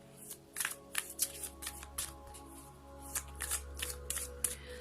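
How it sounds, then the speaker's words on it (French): Oracle cards from the Murmures de Ganesh deck shuffled up close in a run of quick riffling bursts, each a short papery rush, with no talking over them. "on va terminer ce tirage pour aujourd'hui avec les murmures de Ganesh"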